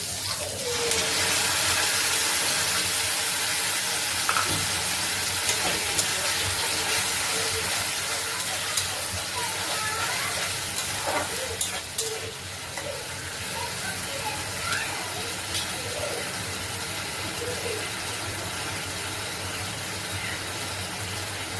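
Onions frying in a pan for gobi manchurian give a steady, loud sizzling hiss that runs the whole time, with occasional faint clinks and crackles mixed in and no talking.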